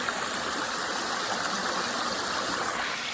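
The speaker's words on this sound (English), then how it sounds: "As you can see, the water's flowing quite quite quickly." A fast-flowing stream rushes steadily in a close, dense, continuous wash of water noise with no pauses and no voices.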